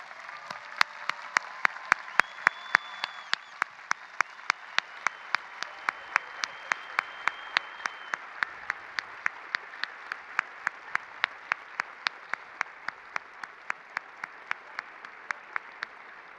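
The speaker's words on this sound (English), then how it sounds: "Let's please give them a round of applause." Graduation audience at a high school ceremony applauding students who have served in the military, a sustained wash of many hands clapping with sharp distinct claps standing out, steady and moderately loud throughout without talk.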